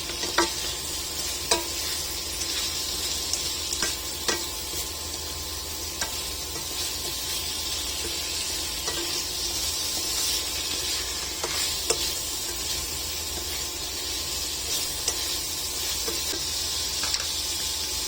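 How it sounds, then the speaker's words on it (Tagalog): Smoked fish (tinapa) is sautéed in a pan, giving a steady sizzle of frying with scattered scrapes and taps of a utensil stirring throughout. "Isabay po natin sa paggisa yung tinapa."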